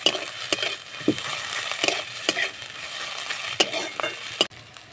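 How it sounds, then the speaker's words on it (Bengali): Ginger-garlic paste sizzles and fries in a hot pan while a utensil stirs and scrapes, giving sharp clicks every half second or so. "আদা রসুনটাকে ভালো করে ভেজে নেব।"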